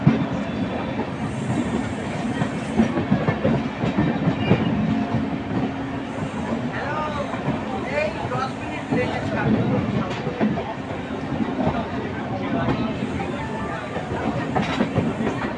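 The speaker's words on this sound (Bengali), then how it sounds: "হাওড়া স্টেশন থেকে ডিপার্চার করছে পাহাড়িয়া এক্সপ্রেস এবং হাওড়া নিউ দিল্লি পূর্বা এক্সপ্রেস" Paharia Express and Poorva Express departing side by side from Howrah station, a steady clattering rumble of wheels over rail joints with faint squeals, close and continuous, with voices talking faintly underneath.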